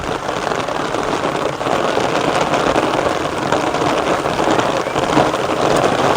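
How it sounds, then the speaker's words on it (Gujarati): Heavy monsoon rain pours steadily onto a village rooftop terrace in Gujarat, a dense, loud, unbroken hiss of drops striking the surface with no pauses and no talking. "તો હવે આ વરસાદ છે"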